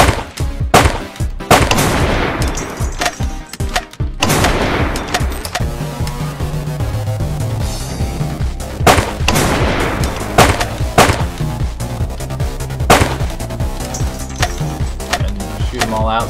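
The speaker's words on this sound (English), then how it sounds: "shoot them all out so I can reload" Rapid gunfire bursts from a shooter video game, sharp cracks and clattering volleys repeating throughout over a layer of game music, loud and close.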